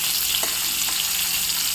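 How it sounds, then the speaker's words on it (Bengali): Cauliflower florets frying in hot oil for a Bengali-style roast give a steady, close sizzle that holds level throughout, with a couple of faint stirring taps and no talking. "ফুলকপিগুলো আমি আর বেশি ভাজবো না, এবার আমি ফুলকপিগুলো তুলে নেব"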